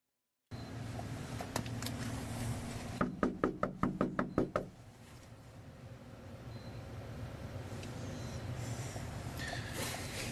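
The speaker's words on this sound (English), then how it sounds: "let me knock on the actual door" A burst of about eight sharp knocks on an actual front door, a quick evenly spaced series of loud close raps set against a steady background rumble, with no talk.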